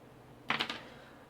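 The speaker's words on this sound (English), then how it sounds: "Obviously it's mechanical, so there is going to be a bit of a click" A Corsair Vengeance K70 mechanical keyboard with Cherry MX Red switches gives a quick cluster of three or four soft keystrokes, close but faint over a quiet room.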